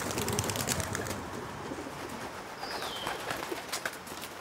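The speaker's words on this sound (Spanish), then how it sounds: "Paloma blanca." A white dove coos amid steady outdoor background noise, its soft calls mixed with broadband hiss through the few seconds.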